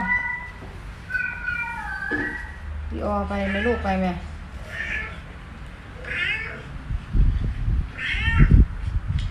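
A Maine Coon cat meows several times in drawn-out, wavering calls at close range, with people talking excitedly around it and occasional handling bumps.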